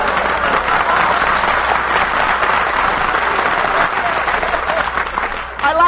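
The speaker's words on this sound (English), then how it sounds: "He leads the applause." A crowd applauds in a broadcast studio, loud and sustained clapping that fills nearly six seconds and then tapers off at the end.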